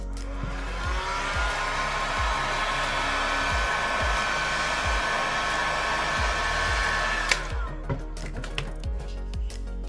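A heat tool blows a steady stream of hot air onto the adhesive of a Samsung Galaxy S22 Ultra during a repair, with a constant whoosh under a rhythmic background ticking, cutting off near the end.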